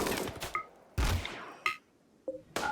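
Gunfire in the colony sim RimWorld Odyssey: a few sharp gunshot bursts spaced irregularly, each with a quick decay, with no talking.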